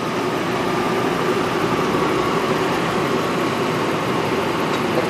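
A Toyota Lexus car engine with a jerky-shifting transmission runs loud and close, a continuous steady drone with no clear gear-change breaks or talk.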